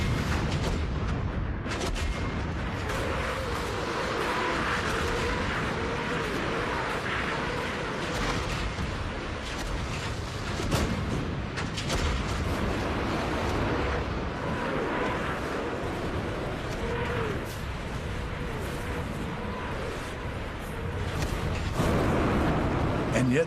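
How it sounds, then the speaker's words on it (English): World War II Soviet artillery and Katyusha rockets fire in a dense, continuous rumble of booms and blasts under a narrator's voice. "they unleash their artillery and Katyusha rockets"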